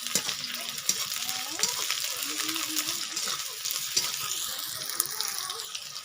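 Tomato curry with green chili and garlic sizzling in a pan, a continuous crackling fry with scraping spatula strokes as it is stirred, heard close up with a voice faintly in the background.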